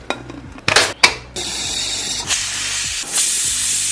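Bursts of hissing steam from a pressure cooker whistle, one after another with short gaps, then a steady loud hiss that carries on; no one speaks.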